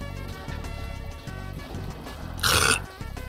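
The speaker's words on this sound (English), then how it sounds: "that burp needed to leave my fucking soul so badly" A loud, rasping burp bursts out for about half a second midway, standing clearly above steady video game music and sound effects from The Binding of Isaac.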